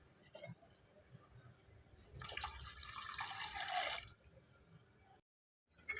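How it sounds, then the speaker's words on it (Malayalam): Water is poured into a thick Kerala-style fish curry, a two-second splashing pour preceded by a few faint drips and clinks, then a brief silence before a closing knock. "കുറച്ച് വെള്ളം കൂടെ ഒഴിച്ച് കൊടുക്കാം"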